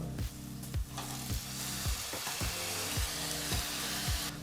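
Peeled raw banana pieces fry in a tempering of hot oil, hissing loudly and steadily while a spoon scrapes the pan in a regular rhythm roughly every half second.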